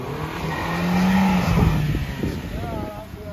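A Swift Dzire car stuck in snow spins its wheels, its engine revving as tires whine and squeal in a long near slip, with voices talking over it.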